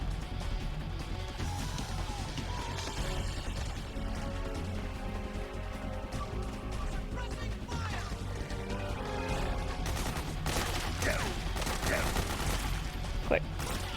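Gunfire in Metal Gear Solid 4, dense continuous shooting with rattling bursts and crashing impacts over a steady battlefield din, growing busier toward the end, with a voice heard at times.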